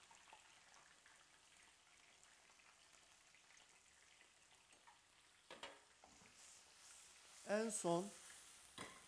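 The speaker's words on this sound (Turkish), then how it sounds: "Ve patateslerimizi yavaş yavaş kızartıyoruz." Potatoes fry slowly in a pan with a faint, steady sizzle, and a voice speaks briefly near the end.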